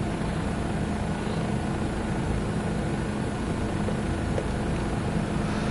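Simulated Bell 407 helicopter in Microsoft Flight Simulator 2024, heard from the cockpit as a steady, dense rotor and turbine drone with low thumping underneath, constant and loud throughout.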